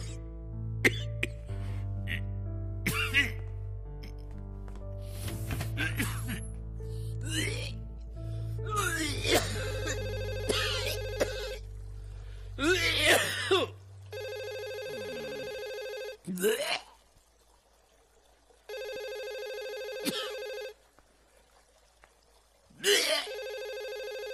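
A telephone rings in a Malayalam film scene, with electronic ring bursts repeating in the second half after earlier stretches of people talking and a cough.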